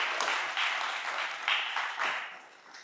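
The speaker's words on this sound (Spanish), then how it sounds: "Demos un aplauso a este par de ejemplos." Brief, moderately faint applause rises and falls in a few uneven bursts from a church congregation, soft and somewhat distant.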